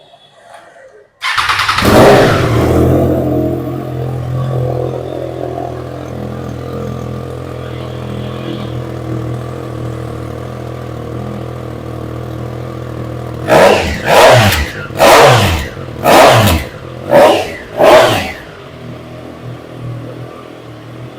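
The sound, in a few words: superbike engine revving with loud exhaust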